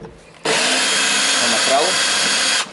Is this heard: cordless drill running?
yes